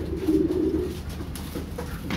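A racing pigeon coos in low, throaty bursts near the microphone, followed by softer shuffling and handling noises.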